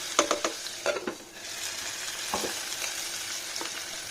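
Chopped onion sautés in the oil left from frying chicken; a few quick stirring scrapes open it, then a steady, moderate sizzle carries on with occasional stirs.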